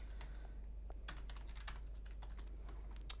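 Typing on a computer keyboard: quiet, irregular keystroke clicks in short bursts close up, over a low steady hum with no voices.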